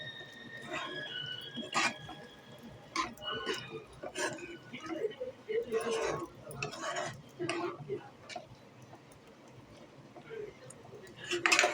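A spoon scrapes and taps around a pan of paneer gravy in uneven strokes, close and fairly quiet, with brief clinks between stirs.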